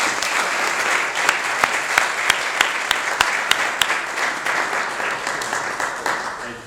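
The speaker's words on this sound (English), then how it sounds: "A round of applause for these guys." An audience at a Texas House District 5 candidate forum gives the candidates a round of applause, steady, lively clapping from a room full of people with a few sharper claps standing out.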